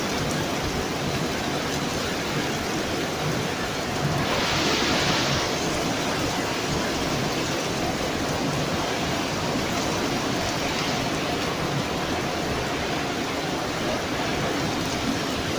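Heavy tropical rain falling steadily in French Guiana, a dense continuous hiss close by with a brief surge of heavier downpour partway through and no voices.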